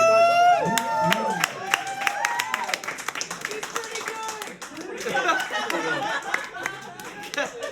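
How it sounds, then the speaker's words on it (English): Live audience at a music night clapping and applauding after a performer, dense steady handclaps with chatter and a voice talking over the crowd throughout. "Alright, keep the hands clapping."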